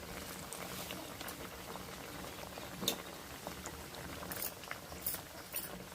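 Banana and moong dal vadas fry in hot oil, a steady close sizzle and bubbling with scattered sharper pops and crackles throughout.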